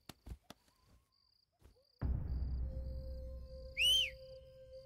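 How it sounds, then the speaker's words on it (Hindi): A single short, rising whistle sounds clearly over a low background rumble, preceded by a few faint clicks. "अरे कौन सीटी बजा रहा है ये?"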